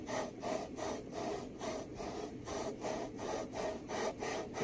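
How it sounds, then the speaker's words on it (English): A lapping bar is worked back and forth through scope mounting rings with lapping compound, giving a steady, rhythmic gritty rasping close by, about two strokes per second without pause. "We're just basically going to work back and forth with the lapping compound"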